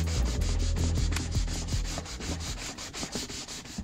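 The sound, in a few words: sanding teak boat steps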